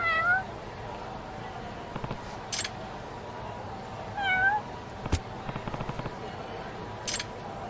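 Cats meow several times in a video game cat cafe side mission: short rising mews near the start and middle, with sharp clicks and a steady ambient game hum underneath.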